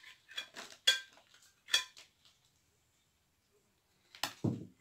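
A spoon scrapes and clinks against a container while scooping out a homemade detergent mixture: several sharp, close scraping strokes, a long quiet pause, then a final scrape and knock.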